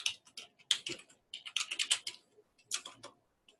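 Typing on a computer keyboard while writing a Google My Business post produces quiet, irregular clusters of crisp key clicks separated by short pauses.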